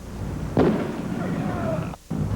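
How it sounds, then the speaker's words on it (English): An M80 firecracker goes off once with a sharp, loud bang that dies into a rumbling roar over steady background noise, followed by a brief drop to near silence. "Here's a sample of what fireworks can do. An M80."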